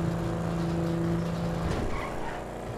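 A car in GTA 5 Online roars and skids as it runs over a player, a loud close engine with tire squeal sweeping through over continuous game sound.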